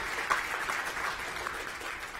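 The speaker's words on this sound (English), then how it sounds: "Let's give her a round of applause." Brief, fairly quiet applause from an audience at a school board meeting, a soft steady patter of clapping with no speech.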